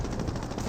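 Dense gunfire from a Company of Heroes battle, a continuous loud rattle of machine-gun bursts and shots filling the whole moment with no pause.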